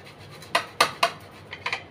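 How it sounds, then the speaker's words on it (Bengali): Potatoes pushed across a metal grating machine, three quick scraping strokes followed by two lighter ones, close and crisp with a faint background hiss. "এখন আলুগুলো আমি এই মেশিনটা দিয়ে গ্রেট করে নেব।"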